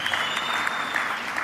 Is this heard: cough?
no